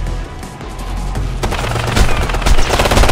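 Loud machine gun fire in the Ghost Recon Future Soldier video game, a dense rapid fusillade of shots that grows heavier toward the end, with no voices over it.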